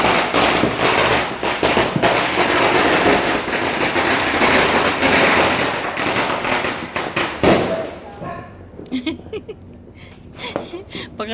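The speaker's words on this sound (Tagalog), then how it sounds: "Hindi na masyado makita kasi nasa malayo na yung mga nagpapaputok." New Year's fireworks and firecrackers popping far off in a dense, continuous crackle, fading after several seconds into sparser scattered bangs with a little talk in between.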